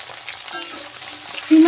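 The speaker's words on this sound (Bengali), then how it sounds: "সিমগুলো নেড়ে চেড়ে এখন ভালো করে ভেজে নেব।" Flat bean pods being stirred and fried in a pan, a close crackling sizzle with soft scraping movements, ending in a brief tonal clink.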